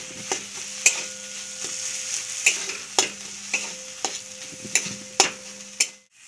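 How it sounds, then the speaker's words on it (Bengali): Spoon stirring a spiced green pea filling with salt, chili powder and ginger paste in a pan, giving regular scraping strokes about every half second over a soft sizzle, close and alone. "এবার এগুলো সব নেড়ে নেব।"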